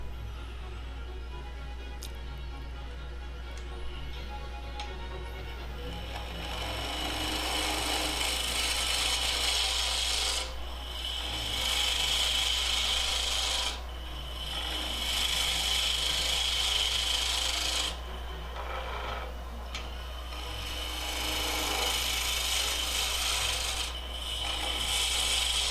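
Wood block being turned into a cylinder on a lathe: a steady motor hum under loud, continuous scraping and tearing as the tool cuts, rising and easing in long passes, with brief softer gaps between them.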